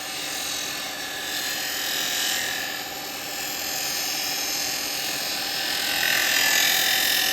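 A lathe spins steadily while a standard type 3 woodturning chisel rolls beads using the bevel, giving a continuous, fairly loud whirring drone with slight swells and no talk.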